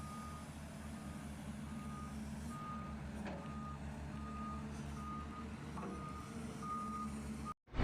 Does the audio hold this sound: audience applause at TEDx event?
no